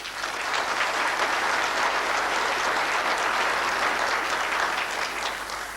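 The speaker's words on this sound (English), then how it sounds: "Can we give this film a round of applause?" An audience at a South African census release event applauds steadily for a film, a dense, even wash of clapping from many hands that holds for several seconds with no talk over it.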